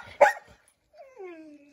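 Close single sharp bark from a Goldendoodle, followed after a pause by a soft, drawn-out whine.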